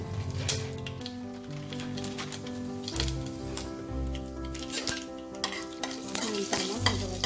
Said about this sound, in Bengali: এবার এতে আমি 2টো শুকনো লঙ্কা, একটু সর্ষে আর অল্প একটু মেথি ফোড়ন দেব